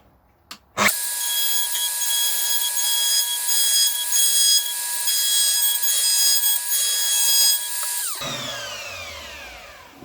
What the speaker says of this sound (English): I've just got a 1/2 inch cutter in here, and I'm just gonna use that as to trim the end of it